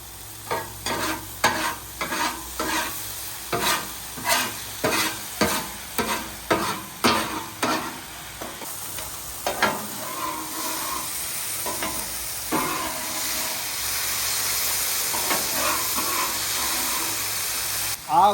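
Beef chow mein noodles fry on a Blackstone griddle, with about a dozen rhythmic spatula scrapes and taps over a steady sizzle, then a calmer, continuous hiss of frying.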